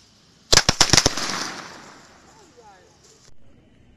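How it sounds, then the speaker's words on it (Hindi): A seven-shot firecracker goes off with a quick run of five or six sharp, loud bangs in close succession, followed by a fading hiss and crackle, with a voice briefly audible afterward. "सेवन शॉट को जला के देखते कैसा चलता है।"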